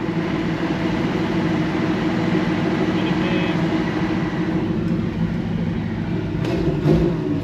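Big block Chevrolet Nova V8 free revving while moving on a potholed road, a steady loud rumble with a brief rise in revs near the end, under road and cabin noise with voices.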